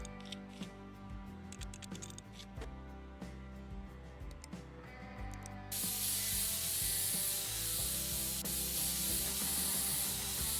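Compressed air sprays steadily to clean out a PC in PC Building Simulator, a broad loud hiss that starts partway through and holds to the end, following a patch of clicking and handling noises.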